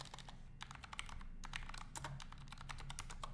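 Steady typing on a computer keyboard, with rapid irregular key clicks that run continuously through the short stretch and pause only briefly, close and moderately loud, with no talking.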